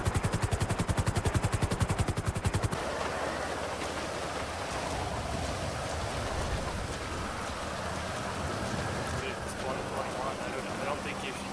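Rapid helicopter rotor thumping briefly in a game, then steady rain-like hiss and rumble in the game soundscape, with faint chatter underneath.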